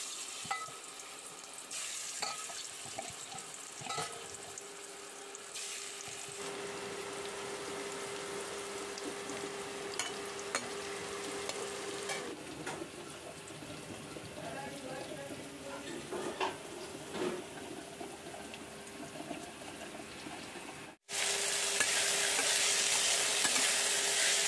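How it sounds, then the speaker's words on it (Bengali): Bitter gourd with potato, pointed gourd and pumpkin pieces frying in a pan for a home meal, a steady close sizzle with occasional stirring scrapes running throughout, briefly cut off near the end before a louder burst of hiss. "উচ্ছে আলু ভাজা, পটল ভাজা, কুমড়ো ভাজা করে নিয়ে চলে এসেছি"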